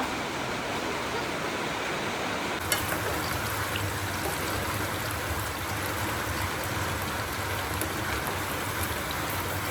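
Continuous rain pours with an even, rushing hiss that stays loud and unbroken throughout.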